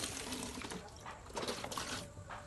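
Water is poured into a half-filled aquarium being set up as an aquascape, a soft, fairly quiet splashing and gurgling flow heard close by without speech.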